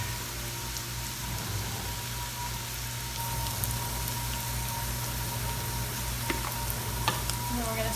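Food sizzling in a pan while it is stirred for a clean-eating dish seasoned with salt and pepper. A steady, soft hiss of frying runs throughout, with faint scrapes and ticks from stirring and a low hum underneath.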